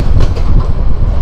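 A passenger train in Bangladesh runs on the rails near Brahmanbaria with a loud, close rumble and a quick clatter of wheels over the track, heard alone for a brief moment.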